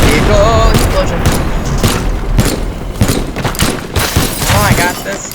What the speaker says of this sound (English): Another vehicle explosion.